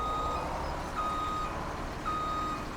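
Backup beeper on a truck reversing into place in Farming Simulator 17, a steady repeating electronic beep over a continuous engine rumble.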